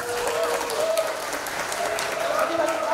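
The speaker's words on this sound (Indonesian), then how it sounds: "Kita berikan tepuk tangan kepada SM Penjara 1." Audience applause at an Indonesian community gathering of a civic organization, a steady wash of clapping mixed with crowd voices and some calling out throughout.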